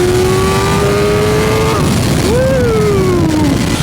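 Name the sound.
BMW M1000R motorcycle with Akrapovic exhaust accelerating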